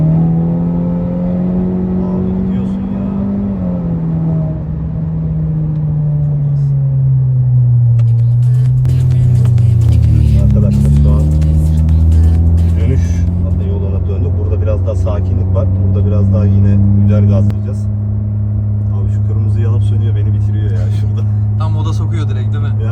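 Mazda RX-7 FC5 with 280 hp driving at speed, its engine droning and climbing in pitch as it accelerates and shifts, heard from inside the cabin under steady conversation.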